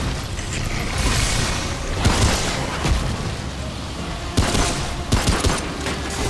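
Dense, continuous gunfire and booming impacts from combat in the video game Remnant: From the Ashes, a loud sustained barrage with several sharper blasts punctuating it.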